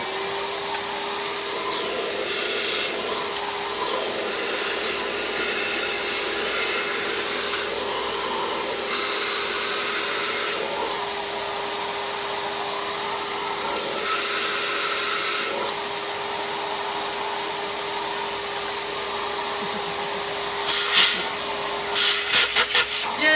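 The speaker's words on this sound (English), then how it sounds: "Give me that vacuum again." A VAX Mach 8 vacuum cleaner runs continuously with a steady motor whine and airflow hiss, loud and close, surging slightly as it works, with brief clattering near the end.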